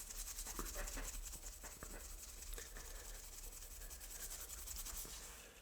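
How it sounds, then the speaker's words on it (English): A Scotch-Brite pad scuffs the clear coat on a small Hot Wheels diecast van, making faint, close scratchy rubbing strokes in short irregular bursts. "you need to scuff this clear coat up a little bit. So we're going to do that with a little Scotch-Brite"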